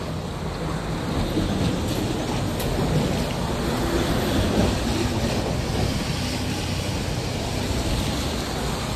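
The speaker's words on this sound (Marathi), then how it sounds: "पवित्र गंगा नदीत पाणी आहे दे का" The Ganga river flows fast in Uttarakhand on the way to Kedarnath, producing a loud, unbroken rushing roar of water close by that holds steady for the whole stretch, with no voices.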